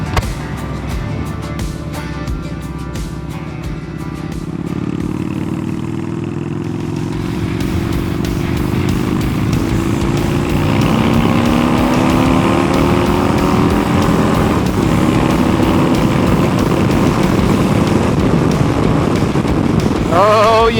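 A Yamaha Bolt motorcycle, recently repaired, cruises on a freeway: a loud, steady engine drone climbs in pitch as it accelerates, with constant wind rush over the microphone.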